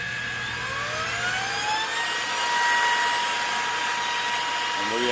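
A Ryobi cordless vacuum cleaner runs steadily in a pickup test, giving a continuous whining motor hum with rising tonal whistles, held at a fairly close, even level throughout.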